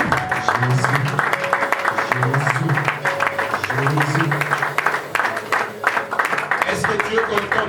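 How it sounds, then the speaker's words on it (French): A church congregation applauding and acclaiming the Lord, continuous clapping and voices filling the room for several seconds, loud and close. "acclamons le Seigneur"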